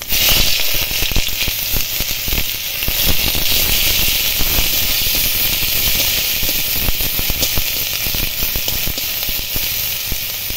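Nigella seeds, a bay leaf and chopped onion hit hot oil in a kadai, letting out a loud, continuous crackling sizzle with dense popping and steady hiss, close up and without talk.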